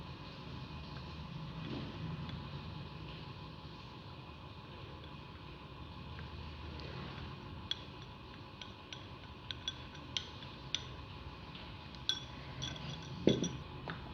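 A spoon transfers homemade rice powder face wash into an empty container, giving a scattered series of small, sharp clinks and taps in the latter half over a quiet room hum, with no talking.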